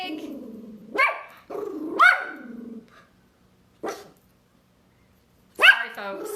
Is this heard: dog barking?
yes